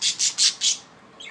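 A budgie plucking at its cage gives four loud, rapid squawks in a row, close and sharp, followed by softer chirps.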